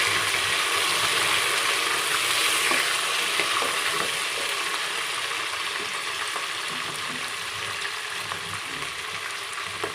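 Chopped tomatoes and green chillies frying in a pot for matar pulao, stirred and mixed; a steady, loud close sizzle with scraping and stirring scuffs running throughout.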